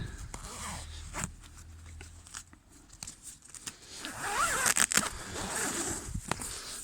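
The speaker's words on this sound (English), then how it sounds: "There's a zip on either side." Someone works the zip on a Vango F10 Helium tent, with quick rasping pulls and fabric rustling close by, along with some handling noise.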